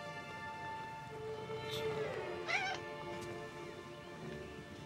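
A cat meows a few times, faint and somewhat distant, over a quiet background hum and soft music.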